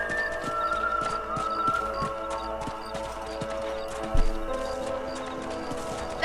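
Horse hooves clip-clop at a steady, even trot through the whole stretch in the video game Red Dead Redemption, set against a low, sustained musical background.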